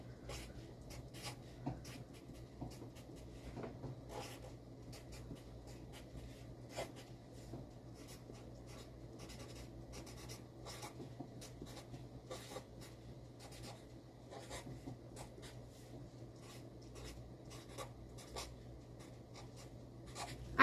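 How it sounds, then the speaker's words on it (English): A pen scratches across paper, writing out the alphabet letter by letter in short, quiet strokes over a faint steady hum, with no voices. "then you write your ABCs"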